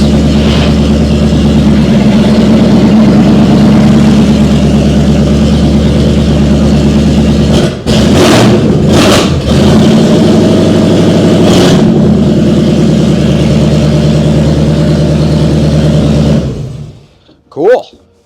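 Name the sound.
1950 Fargo truck engine running in reverse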